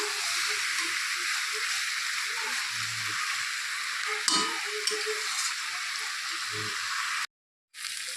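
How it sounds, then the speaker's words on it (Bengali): Eggplant and dried fish curry stirred in an uncovered pan, a steady bright sizzle with occasional soft scrapes and clinks of the spoon, cut by a sudden brief silence near the end. "ঢাকনা খুলে আবারও ভালো করে একটু নেড়ে চেড়ে দিচ্ছি"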